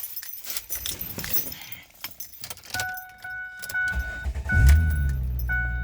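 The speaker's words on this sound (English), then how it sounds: "At least this car cranks nice and fast." A 2007 Husqvarna YTH2454 lawn tractor engine cranking with a starter, preceded by keys and clicking, the motor turning over briefly and then humming steadily close by.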